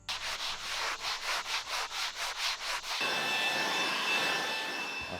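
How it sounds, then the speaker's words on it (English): A sanding block rubs along a wooden footbridge rail in about ten steady back-and-forth strokes, close and rhythmic, then gives way to a continuous broad rushing noise. "I'm going to go through here with this sanding block and kind of just"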